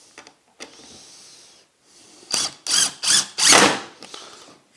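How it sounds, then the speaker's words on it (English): A TID18 impact driver set to T mode drives screws in four short, loud bursts of rapid hammering whir close by, after a few light clicks and handling knocks. "TID18 impact driver. I put it in the T mode and I'm going to use it for fixing these screws."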